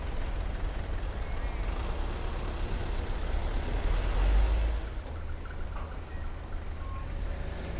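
A heavy truck engine rumbles at a distance with continuous low droning and clatter as it drives onto a ferry, rising briefly in the middle, amid ambient outdoor noise.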